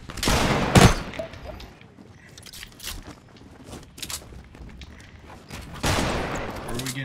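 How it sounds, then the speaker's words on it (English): Fortnite gunfire in a 5 versus 20 match, loud bursts of rapid shots at the start and near the end with scattered sharper cracks and footsteps between, and faint voices underneath. "Where are we getting shot from?"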